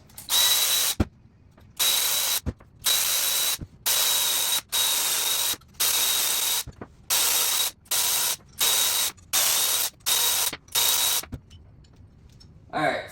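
Power tool loosening the sprocket fasteners on a Sur Ron electric dirt bike jackshaft, a dozen loud, close bursts of rattling ratcheting whir broken by short pauses, then quiet.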